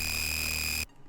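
A synthesized, screechy jump-up drum and bass whistle layered with noise rings out as a loud, piercing sustained tone over a hiss bed, then stops abruptly after less than a second.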